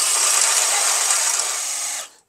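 A power drill with a 3/8 bit bores holes in a metal part for a G-body rear disc brake conversion using S10 Blazer parts, giving a steady, loud whine for about two seconds that stops abruptly at the end.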